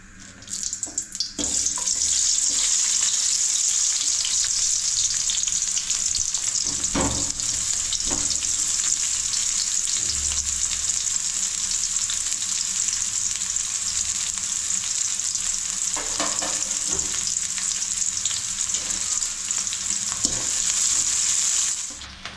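Onions dropped into hot oil for a village-style chicken green masala burst into a loud, steady, close sizzle that holds for about twenty seconds, with a few scraping stirs partway through.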